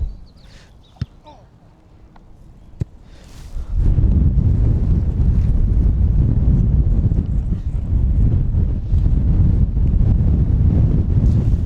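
Strong wind gusts buffet the microphone of a drone-filming setup over Worcester Park, London, in a heavy, roaring rush that starts a few seconds in and keeps gusting loudly after a few quiet clicks.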